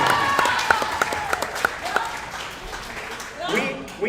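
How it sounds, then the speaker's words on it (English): A handful of people clap for a West Genesee Wildcats softball player in a quick, rhythmic run of about seven claps, then it fades as voices take over. "All right, clap it up for Amaya."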